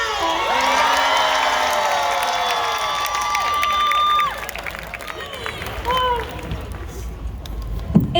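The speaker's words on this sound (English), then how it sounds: "we have to give one more round of applause" A concert crowd at a show in Nashville cheers, whoops and shouts, with clapping mixed in. The noise is loud and sustained, then eases after a few seconds as scattered shouts continue.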